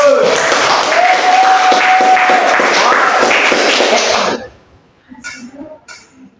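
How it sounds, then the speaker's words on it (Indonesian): Dense applause from a crowd fills the first four seconds, then cuts off abruptly, leaving a few faint voices and scattered sounds. "Beri tepuk tangan untuk Angel."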